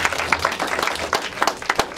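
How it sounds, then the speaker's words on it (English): Audience applauding at a fireside chat event, a close, busy patter of individual hand claps with sharp irregular peaks, steady for a couple of seconds. "Efrain, it sounds like you have some supporters here in the crowd"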